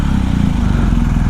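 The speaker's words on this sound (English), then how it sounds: "Love the sound of that boxer engine." A motorcycle boxer engine runs steadily, with a loud, close, throbbing low rumble and no talking.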